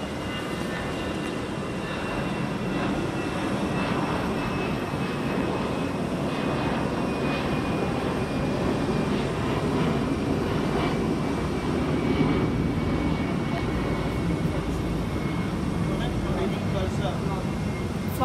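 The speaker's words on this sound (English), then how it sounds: "7463 Eurowings flight to Hamburg." Eurowings jet airliner taking off from London Heathrow on a flight to Hamburg, a steady loud engine roar that holds for the whole stretch with a faint rising whine.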